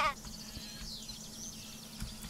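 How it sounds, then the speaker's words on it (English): Sheep bleating in the Craft The World video game, a short wavering bleat at the start followed by soft rising and falling calls over a low background hum. "There's another sheep."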